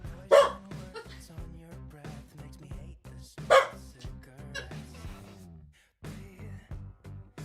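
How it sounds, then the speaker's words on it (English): A dog barks twice, sharp and fairly close, over a steady background of rhythmic game music with some faint talk. "I do apologise about the barking."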